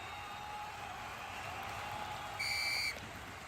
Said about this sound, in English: Referee blew the whistle.